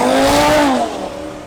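An Audi RS3 and a BMW M140i race car dueling on a track: a loud, close engine roar rising in pitch, then easing off as the cars pull away within a second or so.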